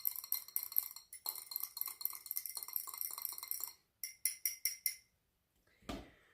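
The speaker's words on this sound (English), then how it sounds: "You can give that a good stir again." Glass rod or spoon stirring bakuchiol and dimethicone face serum ingredients in a glass container, giving a quick series of bright clinks and scrapes, then a few separated taps and a final soft knock, close and alone.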